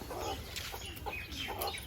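Chickens cluck in a coop, several birds giving short, irregular calls close by against a steady low background hum, with no talking.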